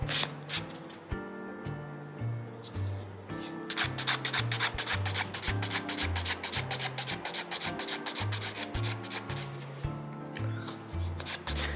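An acrylic nail is filed with quick, rhythmic rasping strokes, close and clear, with background music playing underneath.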